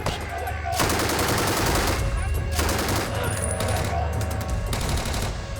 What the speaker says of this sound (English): Vietnamese guards are firing back indiscriminately all through the field